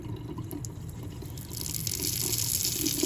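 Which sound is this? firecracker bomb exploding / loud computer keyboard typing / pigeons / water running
water running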